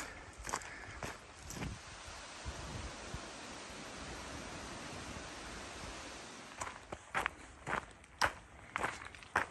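Footsteps crunch along the Appalachian Trail, steady at first and then irregular and louder near the end, over a constant windy hiss.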